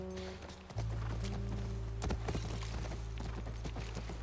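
Horse hooves clip-clop steadily in The Last of Us Part 1, a close, even walking rhythm over a low ambient drone, with a brief faint animal vocal near the start.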